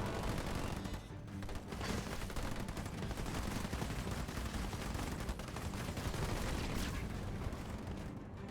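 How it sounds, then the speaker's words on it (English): Dense, sustained rumbling gunfire and explosive bursts from battle in the strategy video game Halo Wars 2, loud and continuous throughout with no talk over it. "It's the loudest explosion I've ever heard on this map."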